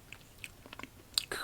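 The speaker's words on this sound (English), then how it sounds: "Let's bite this one in half." A firm, chunky Christmas candy bitten in half up close, with a few soft crunchy snaps and a sharp crack near the end, quiet and intimate.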